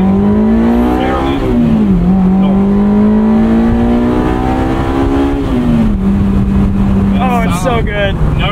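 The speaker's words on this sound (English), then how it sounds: "That exhaust mod is a difference maker." A 2001 Honda S2000 with a modified exhaust drones loudly and steadily from inside the car while driving, its pitch dipping and climbing, then rising sharply into a rev near the end.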